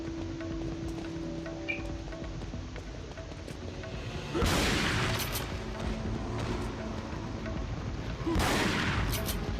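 Shotgun blasts in Resident Evil 4's Separate Ways campaign with Ada Wong, two loud close shots several seconds apart over a low, rumbling game background.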